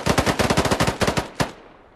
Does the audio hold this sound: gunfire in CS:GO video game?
yes